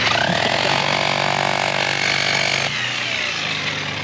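A loud, harsh power tool cutting rock such as agate grinds and rattles continuously up close, then cuts out abruptly, leaving a lower mechanical hum.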